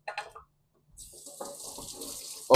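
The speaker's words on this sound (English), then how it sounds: "while I'm cleaning these dishes" Water runs from a kitchen sink tap during dishwashing, a steady hissing stream starting after a brief clatter and continuing at moderate level, ending with a sudden loud splash or knock.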